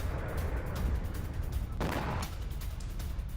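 A single blast from a drone strike in Bushehr, Iran, bursts out midway through a rough, rumbling background, sounding some distance away.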